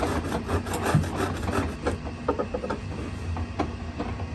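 A washing machine filter being scraped clean of accumulated dirt, giving a steady, close rasping and rubbing that runs throughout with small uneven strokes.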